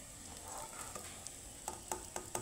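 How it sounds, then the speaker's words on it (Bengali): Snack pieces fry in a pan with a faint, steady sizzle punctuated by a few sharp clicks and taps of a utensil toward the end, quiet and without talk. "এখানে সবগুলো ভাজা হয়ে গেছে আমার টিফিনগুলো"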